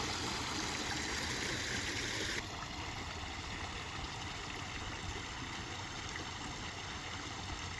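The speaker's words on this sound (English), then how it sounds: "all the water that's moving on the waterfalls and the intake bay" Steady broadband rush of water flowing over a small pond waterfall, a continuous splashing wash that drops slightly in brightness after a couple of seconds, with no voices.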